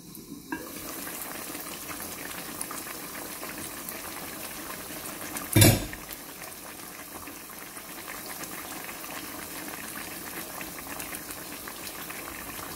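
Continuous bubbling and gentle sizzle of Jamaican-style pot roast pork simmering in its own juices in a covered pot, no water added, broken by one brief loud clank partway through.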